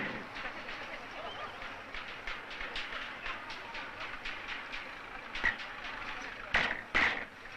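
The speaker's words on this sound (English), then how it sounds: "These trains are called petroleum dragons." An oil tanker train rolls past with a steady rumble and rhythmic clacking of wheels over rail joints, a few sharper metallic clanks near the end.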